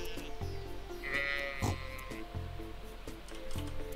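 A farm sheep in Stardew Valley gives a single bleat over a looping, bouncy game soundtrack with a steady beat, the animal call brief and clear in the middle of the music.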